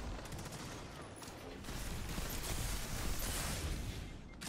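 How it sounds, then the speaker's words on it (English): A machine gun fires in a video game as a continuous, dense, rapid burst of gunfire, fairly distant and steady throughout. "We'll use this machine gun."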